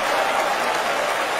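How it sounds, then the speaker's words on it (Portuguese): A church congregation applauds together in one steady, dense wash of clapping that fills the whole moment, loud and unbroken with no voices on top. "vamos dar para esta palavra a melhor salva de palmas que já se deu aqui nesta igreja"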